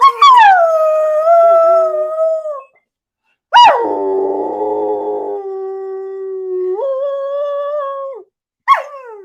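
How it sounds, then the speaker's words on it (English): Dog sings along in long, loud, wavering howls, three sustained wails with brief gaps and a short yip at the end, close and clear with no talk over it. "We'll do more dog singing"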